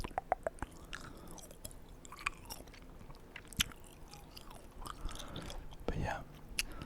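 Close, quiet mouth sounds of someone chewing Wrigley's Extra spearmint sugar-free gum, soft wet smacks and clicks scattered irregularly, with faint whispering in places.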